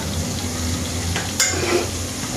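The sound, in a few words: onion, garlic and ginger sautéing in a pan for tinola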